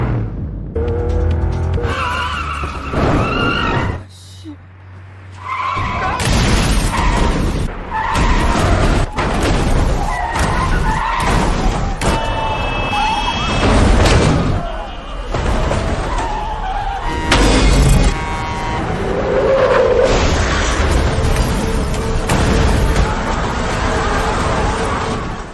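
Cars skid and crash in a film pile-up on a foggy bridge: loud tire squeals, screeching brakes and repeated heavy impacts, with engines roaring throughout.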